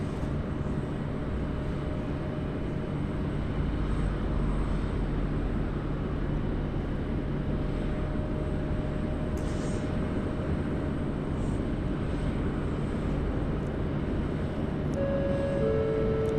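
A Jetstar airliner at Sydney Airport taxis onto the runway. Its engines give a loud, steady, broadband roar that holds evenly throughout, with no talk.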